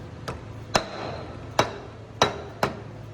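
Sharp metallic hammer blows strike a separator clutch part from a Gleaner R72 combine, five ringing hits at uneven intervals, close and loud in a quiet workshop.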